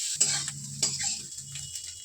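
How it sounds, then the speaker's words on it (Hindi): Grated carrots roasting in a pan for carrot halwa, a gentle sizzle under a few scraping stirs and light clinks, close and fairly quiet, no talking. "5 से 10 मिनट के लिए इसे भूनेंगे अच्छी तरीके से।"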